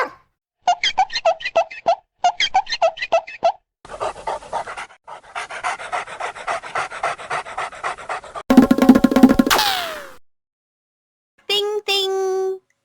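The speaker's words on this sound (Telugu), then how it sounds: "అయ్యో, కుక్క వస్తోంది." A dog panting in quick rhythmic bursts of short breaths, loud and close, in several runs separated by pauses, followed by a burst of other cartoonish sound effects and a rising tone.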